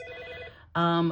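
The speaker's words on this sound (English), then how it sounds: "I apologize for the phone call." An office telephone rings loudly with a bright, harmonic electronic tone that swells in after a brief dip and holds steady, following a quieter ringing passage before it.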